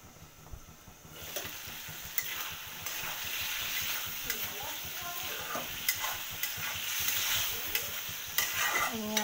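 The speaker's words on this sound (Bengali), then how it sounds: "তো আমার শিমটা কষতে থাকুক।" Flat beans being sautéed and stirred in a pan for a hilsa fish and bean dish, a steady close sizzle with repeated scraping stirs, quiet at first and then building and holding loud.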